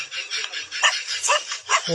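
Several dogs give short, repeated yips and barks close by, in quick bursts with short pauses between them.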